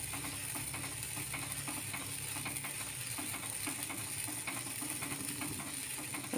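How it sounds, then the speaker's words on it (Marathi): Amaranth (rajgira) seeds crackle and pop steadily in a hot pan while being stirred and roasted, a dense, continuous stream of small close-up pops with a faint sizzle beneath. "इथे बघू शकता तुम्ही सगळा राजगिरा छान फुटत आहे।"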